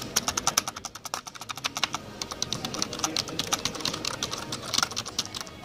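Fast, continuous typing on a cheap Trust Erou silent computer keyboard in a store, a dense run of soft plastic key clicks with slight clatter, close and steady.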